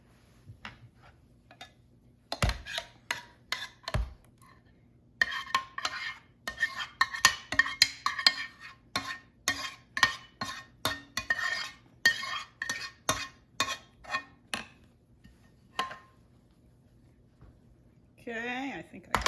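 Leftover polenta being scraped from a pot onto a pan in a home kitchen, with repeated metal utensil scrapes and taps in an irregular rhythm, close and clear, and a voice speaking near the end.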